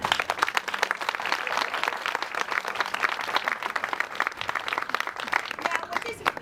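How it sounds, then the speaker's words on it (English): An audience at a ribbon cutting ceremony for a house breaks into steady applause, a dense sustained patter of many hands clapping at moderate distance, continuing throughout with faint voices mixed in. "So certainly a round of applause for these two women."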